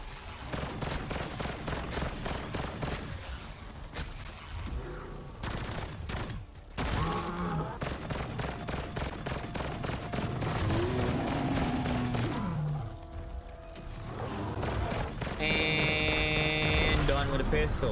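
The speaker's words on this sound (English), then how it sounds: "Let's get our last kill with our pistol done." Pistol fire in the shooter video game Black Ops 7 during a zombies round, with rapid bursts of gunshots over a constant game soundtrack, electronic tones and effects, continuous and dense.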